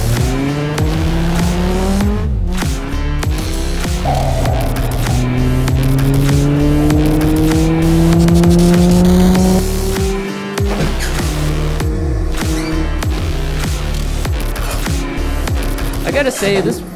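Simulated race car from Assetto Corsa lapping Charlotte Motor Speedway, its engine droning loud and steady with rising and falling gear pitches, tires squealing through the turns, a brief shift gap near ten seconds.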